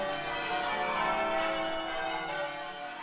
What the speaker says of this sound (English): St. Michael's bells began to ring, and by the time I got to Rowland's Hill, the Minster bells joined in.